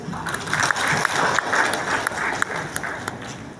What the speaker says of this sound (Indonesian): Aplaus dong untuk Istiqomah